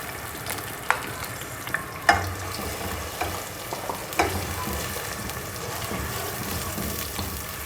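Blended onion paste hits hot oil for chicken korma, a loud, steady sizzle broken by several sharp spatula taps and scrapes against the pan.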